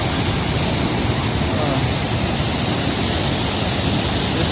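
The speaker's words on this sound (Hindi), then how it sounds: "इस वक्त पानी का बहुत तेज़ बहाव कुंडल शाही वाटरफॉल पे आप देख सकते हैं" Fast-flowing water pours over Kundal Shahi waterfall in the Neelum valley, a loud, dense, continuous roar of rushing water that fills the whole stretch.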